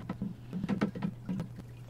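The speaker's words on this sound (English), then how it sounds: "Now I'm going to just stir it up really well with a piece of PVC pipe." A piece of PVC pipe stirs hydroponic nutrient water in a large 60-gallon Kratky tank. It makes a short run of close sloshing and swishing strokes in an uneven rhythm, with no talking.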